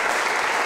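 Loud, thick applause from a crowd at a merengue music gathering, an unbroken roar of clapping hands filling the brief moment.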